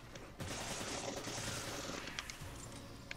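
Gunfire in the action game Resident Evil 5: a loud burst of rapid shots and noisy blasts starting abruptly, continuing as a dense wash, then easing with a few sharper clicks near the end.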